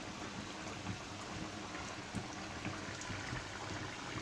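Onions frying in oil in a pan on a home stove while fish curry cooks, a steady, fairly faint hiss and crackle that runs unbroken from start to finish.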